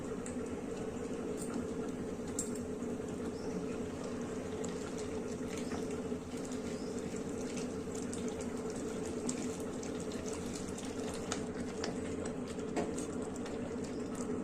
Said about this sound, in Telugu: వాటర్ అనేది అందాజు వేసుకున్నానండి